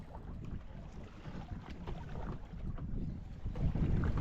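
Strong wind at sea buffets a small fishing boat on inshore reefs off Queensland's Sunshine Coast, a steady loud roar of gusts and microphone buffeting with water slapping the hull, building stronger toward the end.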